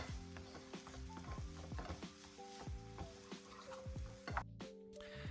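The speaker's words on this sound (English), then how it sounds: "Mix that all together so they can get nice and friendly." Turkey and canned chopped tomatoes are stirred in a hot pan with spice mix, a soft sizzle under repeated scraping and clinking strokes of a utensil against the pan.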